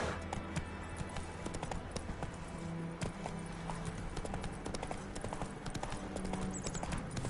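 Roach, a horse in The Witcher 3, trots with steady, close clip-clop hoofbeats over continuous game ambience and music, the rhythmic hoof strikes clear and even throughout.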